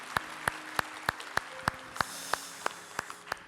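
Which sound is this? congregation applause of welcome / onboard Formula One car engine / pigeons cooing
congregation applause of welcome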